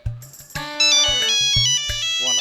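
A mobile phone ringtone rings loudly and alone in a village home, a bright melodic electronic tune with a repeated pulsing beat through the whole stretch.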